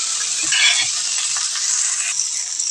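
Steady sizzling and crackling from a hot pan sautéing ingredients with coconut, with faint scraping and stirring clatter underneath, continuous and close with no voices.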